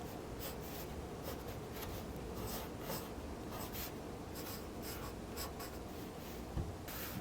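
A pencil scratches across paper while a teenager's jaw is drawn, making soft, close, continuous strokes with a quick rhythmic scraping and faint rubbing throughout.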